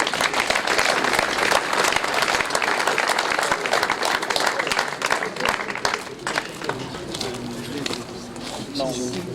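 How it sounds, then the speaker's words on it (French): Audience at a memorial ceremony in Grenade applauds award recipients, loud continuous clapping that thins toward the end as voices begin to talk over it. "nous pouvons les applaudir très très fort"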